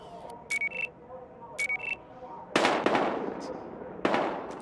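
Several sharp gunshot bangs ring out in Battlefield Hardline, a couple of crisp reports followed by louder blasts with short echoing tails, amid electronic beeps.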